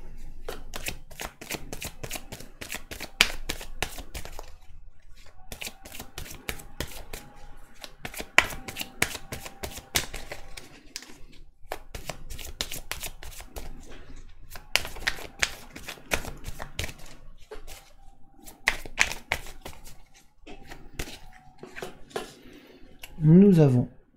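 Oracle cards shuffled by hand for a reading, repeated bursts of crisp papery riffling and flicking in quick clusters separated by short pauses, close and fairly loud, with a brief voice near the end.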